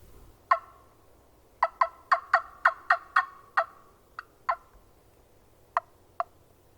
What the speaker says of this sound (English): He's gobbled randomly once in a while